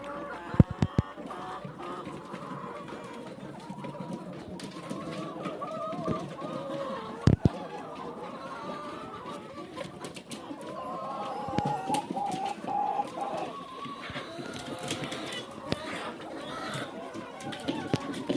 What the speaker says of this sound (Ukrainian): Кури квокчуть, але не несуться чомусь.